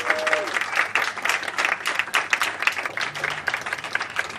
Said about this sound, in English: let's bring them on with a bit of applause